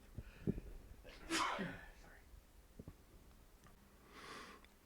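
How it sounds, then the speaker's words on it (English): A single sharp sneeze bursts out near the microphone, preceded by a few short sniffs and breaths, then quieter rustling. "I had a sneeze going."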